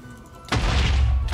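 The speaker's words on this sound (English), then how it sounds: "I think I'm supposed to hit the explosions back at him, right?" An explosion in Minecraft gives a sudden loud, deep boom with a crunching burst that rolls on for nearly a second, followed by a second, smaller blast at the very end.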